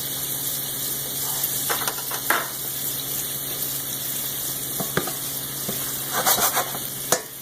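Vodka sizzles in a hot pan for shrimp vodka pasta, a continuous loud hiss with stirring scrapes and occasional clinks and bubbling bursts, no talking.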